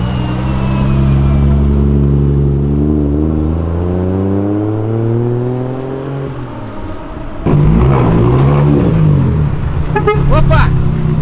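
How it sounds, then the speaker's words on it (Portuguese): A BMW pulls out from a car meet with its engine revving loudly, rising through several gear-like sweeps before a sharp burst of acceleration near the end, with people talking and shouting in the background. "olha essa BMW"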